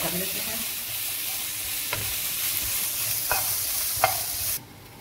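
Vegetables and fresh chopped garlic frying in a pan for chicken fajita pasta, giving a loud, dense, continuous sizzle with a few scraping stirs before it cuts off near the end; no talking.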